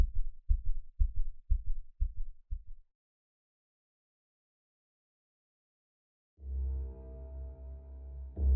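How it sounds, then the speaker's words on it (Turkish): Six soft, low heartbeat thumps in a steady rhythm, then silence, followed by a deep rumbling drone. "Yalnızca kendi kalp atışımı duyuyordum"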